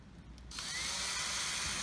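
A power drill bores a small pilot hole into the top of a plywood beehive frame, starting after a brief pause and running as a steady, loud whirring grind to the end.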